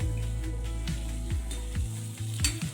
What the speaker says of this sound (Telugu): ఇప్పుడు మనం తరిగి పెట్టుకున్న క్యాప్సికమ్ ముక్కలు వేసుకోవాలి. ఇవి కూడా జస్ట్ కొద్దిగా సాల్ట్ వేసి మనం బాగా ఫ్రై చేసుకుందాం